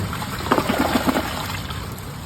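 Glacier Bay dual flush toilet flushing, a steady broadband rush of water with gurgling pulses around the middle, moderately loud and close, with no talking.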